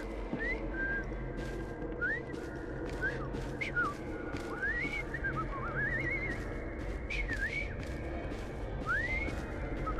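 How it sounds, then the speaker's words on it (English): A game character whistles a wandering tune in Assassin's Creed Syndicate, Victorian London, with a string of rising and falling whistled notes over a steady low background rumble, fairly clear and close. "I've just learned to whistle."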